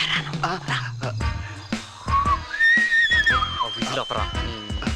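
A comedic slide-whistle tone from a Telugu film comedy scene rises and wavers across the middle of the clip, weaving between loud overlapping dialogue and busy background effects.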